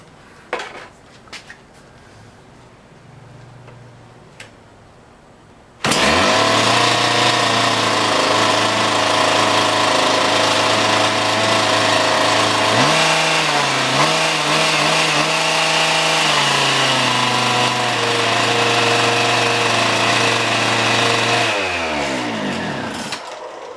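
A Wacker BTS 1035 cut-off saw with a direct-drive engine and freshly cleaned carburetor, starting after some quiet handling noises, then roaring loudly and steadily up close, its pitch dipping and recovering before winding down near the end.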